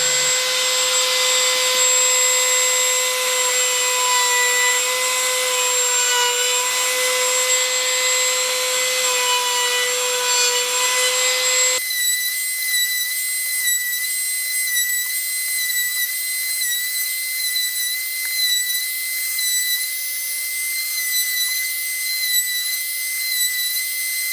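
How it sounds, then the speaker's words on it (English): A small battery-powered trim router fitted with a 1/8 inch round-over bit cuts the inside of holes in wood, a steady high whine running throughout with its pitch stepping up partway, loud and close, no talking. "I have my little battery operated trim router set up with that same 1/8 inch round over bit"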